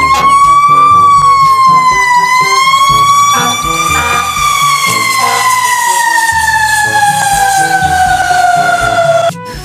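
A loud electronic toy fire-truck siren wails continuously, its pitch sliding up and down in a tinny tone, very close and alone.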